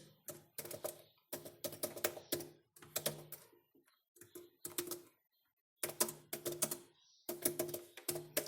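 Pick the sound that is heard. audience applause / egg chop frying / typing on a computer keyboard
typing on a computer keyboard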